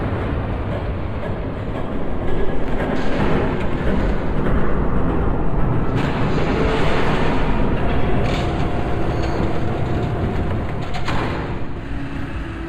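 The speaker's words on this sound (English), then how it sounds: "There's a train coming." A train passes in the Batman Telltale Series video game, a loud continuous rumble and rattle of rail wagons that swells after the first couple of seconds and holds steady, with faint higher clanks on top.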